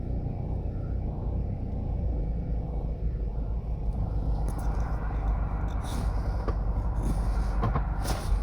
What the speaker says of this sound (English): this is the actual train pulling in